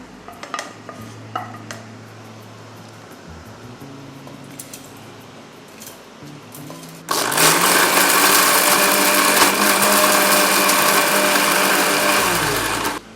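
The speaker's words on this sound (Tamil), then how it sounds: "இதெல்லாம் ஒன்றா சேர்த்து பிளெண்ட் பண்ணி நம்ம மசாலா ரெடி பண்ணிவிட்டு" A kitchen blender grinds roasted grated coconut and spices into a masala paste, starting with quieter clinks and handling, then a loud steady motor whir for several seconds before winding down.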